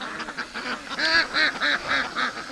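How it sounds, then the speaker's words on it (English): Ducks in a cold-weather pen quack in a quick run of about seven nasal calls while they play in mud being washed out of their enclosure, close and moderately loud, with no one talking. "the ducks are just having a blast playing in the mud I'm making"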